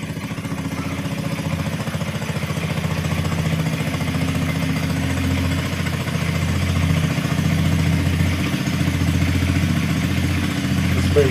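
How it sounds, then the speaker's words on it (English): A boat motor throttled all the way down while moving through a Michigan lake channel gives a steady, close, low engine drone with a slight clatter, holding even for the whole stretch. "We'll just turn the motor all the way down."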